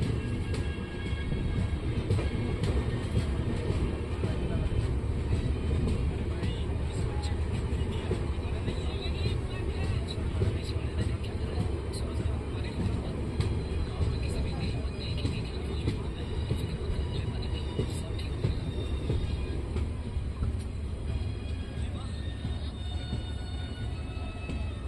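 Rumbling interior noise of a Mumbai to Bangalore train halted on the outskirts of Pune, a steady low drone with faint clanks and hum running throughout, fairly loud and continuous.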